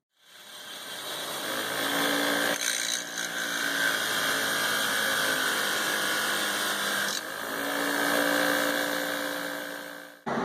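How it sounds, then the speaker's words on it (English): A power wire brush grinds zinc coating off a steel piece, a loud, close, continuous high whirring scrape that runs for several seconds, dips briefly twice, and then winds down at the end. "Now I'm going to brush off the zinc coating so that I can weld this end to the steel ball."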